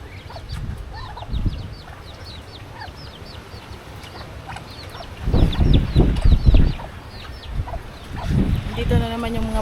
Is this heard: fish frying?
no